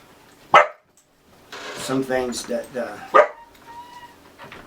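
A dog barks close by indoors, a sharp single bark then a short run of yips and whimpering barks, followed by another loud bark, with someone talking over it.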